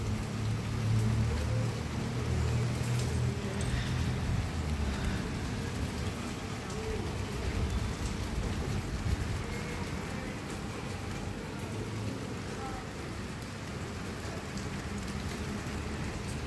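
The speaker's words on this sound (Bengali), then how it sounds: "দেখো বৃষ্টি হচ্ছে, কি সুন্দর।" The first summer rain falls steadily on a rooftop, a constant, even patter with no pauses.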